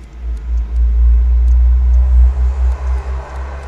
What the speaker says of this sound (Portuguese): Olha o caminhão passando!